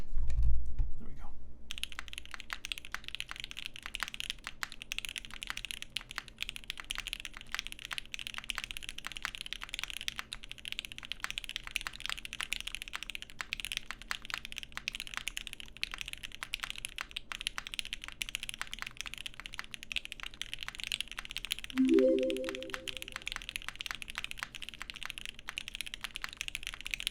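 Fast, continuous typing on a Charon prototype keyboard fitted with Alpaca switches gives a dense run of crisp, close keystroke clicks that lasts throughout, with a brief louder clatter near the end.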